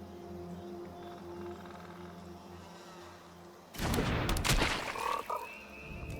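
A frog card in the video game Magic: The Gathering Arena gives a sudden burst of loud croaks and a crackling game effect, arriving after a calm stretch of background music.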